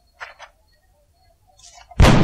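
A soldier fires a single gunshot in the XCOM video game, a loud, sudden blast near the end of the clip. Before it come a few faint, short game sounds against near silence.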